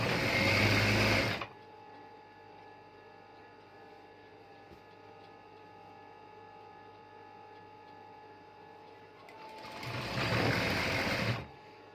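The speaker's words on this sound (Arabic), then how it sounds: "هبدا اخيط عشان تبقى نضيفه معايا اهو" A sewing machine stitches a bedsheet in two loud, fast bursts of close mechanical whirring at the start and end, separated by a long stretch of quiet room hum.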